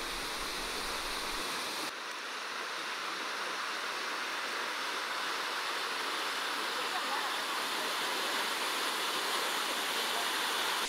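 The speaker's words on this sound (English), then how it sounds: "The falls are on the upper reaches of the Coorg River, and they're at their best during the monsoon." A waterfall on the upper reaches of the Coorg River in Kodagu, Karnataka, roars as a steady, dense, unbroken rush of falling water, loud and close throughout.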